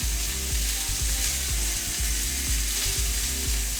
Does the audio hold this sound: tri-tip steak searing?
yes